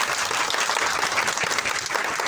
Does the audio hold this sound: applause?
yes